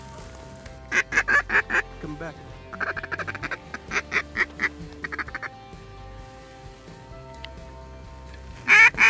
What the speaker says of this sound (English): Ducks from our left.